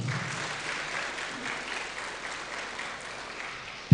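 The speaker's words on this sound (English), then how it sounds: "Ladies and gentlemen, please give him a big applause." Audience applause at a public discourse event as a jury member is introduced, a steady, fairly soft wash of clapping from a seated crowd that holds evenly throughout and ends in a sharp knock.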